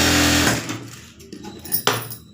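A sewing machine stitches thread piping, with a loud steady whir at first, then a pause and short bursts of running.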